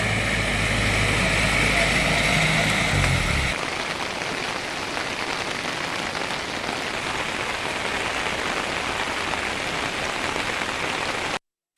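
Steady rain pours during a wet-weather spell in the Matara area of Sri Lanka, a dense, continuous hiss of drops on surfaces that is heavier and fuller at first, then settles into an even, constant downpour throughout.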